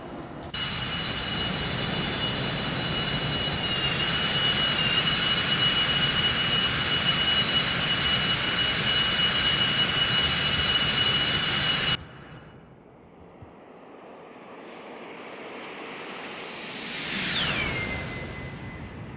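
Aircraft jet engine in the X-Plane 12 flight simulator, a steady loud whining roar that cuts off suddenly, leaving a low rumble before a high whine sweeps down in pitch as power eases.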